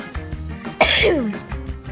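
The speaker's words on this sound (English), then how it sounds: "That was a cough." A single sharp cough bursts out near the microphone, loud and abrupt with a breathy tail, set against faint room noise.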